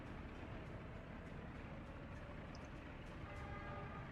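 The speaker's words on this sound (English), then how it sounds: "And the other train has moved now." A train rolls along in the Workers and Resources simulation game, a quiet continuous rumble of wheels with a faint horn-like tone near the end, no voices over it.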